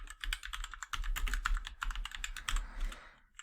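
Rapid computer keyboard typing with dense, irregular keystrokes close to the mic, steady throughout and unaccompanied by talk.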